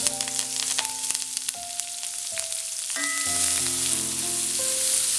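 Ginger, green chili, onion and curry leaves sauté in a pan for semolina upma, giving a steady close sizzle with occasional stirring scrapes and no voices.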